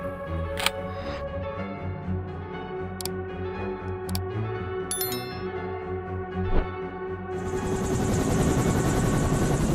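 A helicopter's rotor thrums steadily with a low rhythmic beat, punctuated by a few sharp clicks, before a loud turbine whine swells near the end.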